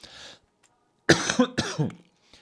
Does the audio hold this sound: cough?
yes